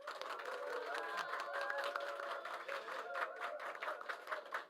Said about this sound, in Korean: 다시 한번 큰 박수로 시작을 알리도록 하겠습니다